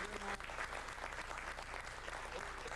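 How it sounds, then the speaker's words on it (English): Audience applause for the magician Sudini at a Valentine's Day brunch, continuous dense clapping that fills the room, with a voice speaking over it. "Another big round of applause for Sudini,"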